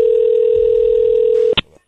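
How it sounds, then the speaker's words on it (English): Steady telephone dial tone sounds loud and continuous while a radio morning show places a call, cutting off abruptly near the end with a brief click and a short trailing sound. "We're dialing Ryan right now"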